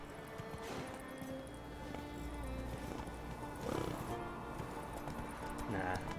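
Hooves of the horse Roach clopping on a slope in a video game, soft repeated footfalls under game sounds and music, with someone talking over them.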